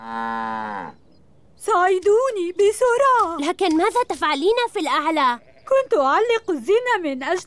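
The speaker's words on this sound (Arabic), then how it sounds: "هذا صوت البقرة" A cartoon cow gives one long, loud moo that opens the scene, then stops as animated characters start talking.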